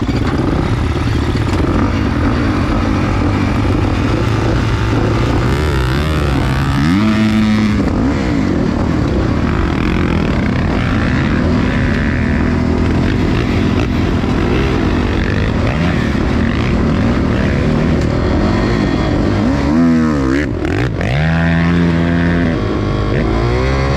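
Enduro motorcycle engines at a competition drone loudly and steadily, with two sharp throttle revs rising and falling above the constant idle.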